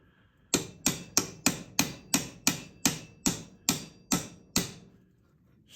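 A poured silver piece is struck with a hammer about eleven times in a steady rhythm, each blow a sharp, ringing metallic hit that decays quickly, close and loud with no talking.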